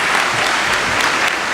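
Ministers, former presidents, high court judges and victims' representatives burst into applause at a presidential signing ceremony, a loud, dense clapping that carries on without pause.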